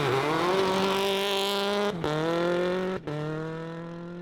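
A rally car engine screams at high revs on a stage, held steady with two sharp gear-change dips, loud and close with no talking.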